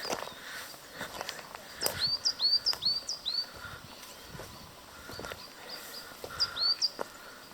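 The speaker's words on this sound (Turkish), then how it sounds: "Önceki haftalarda geldiğimizde bu kadar kuşlar şakmıyordu" Several birds chirp and whistle in short bright phrases against a low outdoor hum on a highland pasture, with a few scattered knocks and faint background noise.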